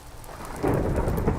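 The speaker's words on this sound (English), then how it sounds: "it's probably now going to be perpetually raining, and I don't like that" Steady rain pours with a deep thunder rumble swelling in partway through, loud and continuous, inside a Minecraft modpack world.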